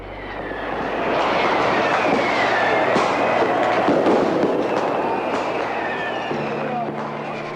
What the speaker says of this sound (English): fireworks exploded outside the Brandenburg Gate in Berlin, Germany